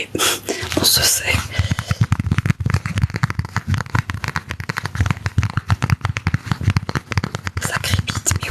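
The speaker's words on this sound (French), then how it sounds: "Ça crépite, mais oui, c'est trop bien." Dense, close crackling and crinkling from an ASMR live stream, made up of rapid irregular snaps and pops that run nonstop under soft whispering.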